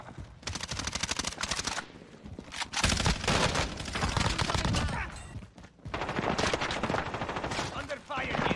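Rapid automatic gunfire in a first-person video game shooter, dense bursts of shots crackling almost continuously at close range, with brief lulls between volleys.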